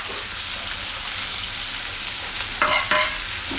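Garlic and chillies fry with onions in a pan for a Gujarati okra gravy curry, a loud, steady sizzle with a few stirring scrapes and flare-ups toward the end.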